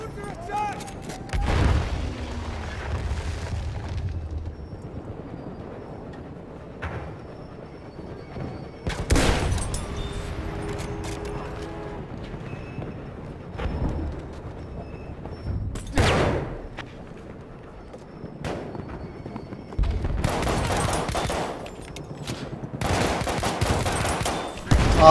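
Explosions and gunfire during a multiplayer shooter game as enemies attack the objectives, with loud blasts hitting around 2, 9, 16 and 20–25 seconds over a steady rumble of battle, and voices in game and from the player talking between the bursts.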